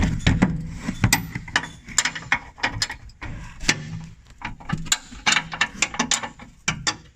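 Wrench loosening the bumper bolts on a 2013-2018 RAM 1500 during a hidden winch kit install, heard as a close run of quick ratcheting clicks and metallic knocks in uneven bursts with no talking.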